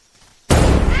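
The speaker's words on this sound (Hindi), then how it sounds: "ये गोली की आवाज थी।" A single gunshot in a forest setting, a sudden loud blast after near silence, followed by a broad rumbling tail that fills the rest of the moment.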